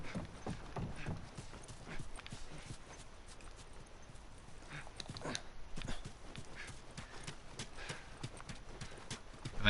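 Horse hooves clip-clopping in The Last of Us video game, a quiet, irregular patter of steps running throughout.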